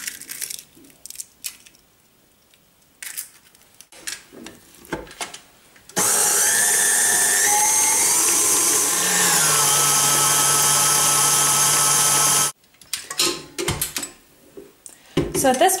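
Electric mixer beats eggs into red velvet cake batter, a loud steady whir for several seconds with a shift in pitch midway, bracketed by bowl clatter and handling noises.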